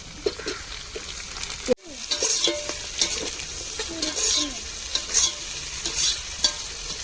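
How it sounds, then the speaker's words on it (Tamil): Tomatoes and chillies stir-fried in hot oil for a fish biryani: a constant close sizzle broken by repeated scraping stirs and one sharp knock partway through. "இப்போ தக்காளியும் மிளகாயும் சேர்த்துக்கிடுவோம்"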